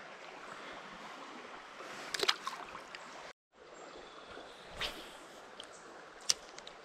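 A small brook in western North Carolina trout country flows with a steady, soft rushing and gurgling of water. The sound is continuous apart from a brief cut midway, with a few small splashes.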